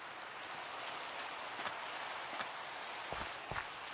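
Steady rain falls in the Minecraft Pixelmon video game, a soft, even hiss throughout with a few faint drips, no voices.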